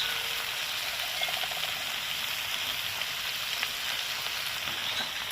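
Ground spices, turmeric, coriander and cumin powder, frying in oil in a pan make a loud, steady sizzle with faint stirring clicks, close and unbroken, with no speech.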